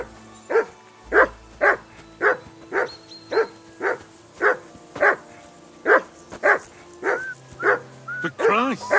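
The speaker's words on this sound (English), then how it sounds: "Whistle at that mutt of yours to stop barking." A dog barks repeatedly in a steady rhythm, about a dozen sharp barks close by, with a brief whine near the end, in the video game Kingdom Come: Deliverance.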